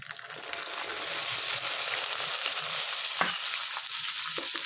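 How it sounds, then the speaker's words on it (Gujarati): Corn kernels drop into hot oil already seasoned with asafoetida and curry leaves for a corn chevdo snack, setting off a loud, steady, close sizzle that builds quickly and carries on with faint stirring scrapes. "હવે જે મકાઈના દાણા કાઢીને રાખ્યા છે ને એ એડ કરી દઈશું."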